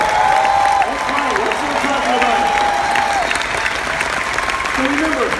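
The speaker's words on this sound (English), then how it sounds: "Give me a round of applause to show you how you feel today." Audience applause filling a large convention hall, steady and loud throughout, with scattered cheers and whistles rising over the clapping.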